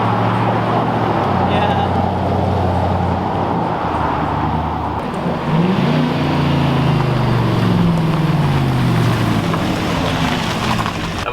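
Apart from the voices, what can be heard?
pickup truck with 4-inch lift kit driving by, downshifting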